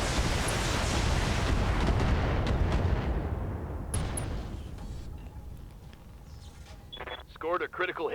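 Mech weapons firing a full salvo in the Battletech video game, a dense loud barrage of booming shots and blasts that tails off, with a voice speaking over the end.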